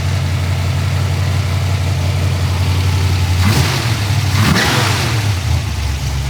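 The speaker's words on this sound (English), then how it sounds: "So it's still on a fast idle, so we gotta let it warm up a little more." A car engine on fast idle while warming up hums steadily and close, a constant low drone with a slight rise in pitch partway through; no voices.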